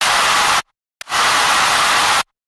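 Two bursts of loud white noise from a melodic dubstep production, a short one followed by a longer one after a brief gap, each starting and stopping abruptly.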